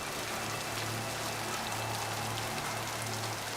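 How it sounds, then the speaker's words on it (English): Steady, dense rain falls in a Mass Effect 2 scene near a shuttle, with water streaming off the front of the craft. The hiss is constant and even, with a low hum beneath it. "Nice rain effects. It's actually streaming off the front of the shuttle as well."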